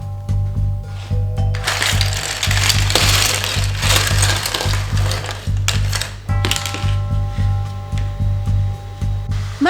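A 3D printer works on a cosplay catalyst prop, its stepper motors whirring and buzzing in shifting tones with tonal hums and brief clicks, steady mechanical activity with short pauses.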